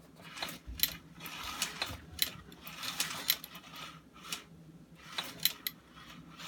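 Hand-cranked cobbler sewing machine stitching a handle onto a ski bag, giving faint, uneven mechanical clicks and clunks at an irregular rhythm.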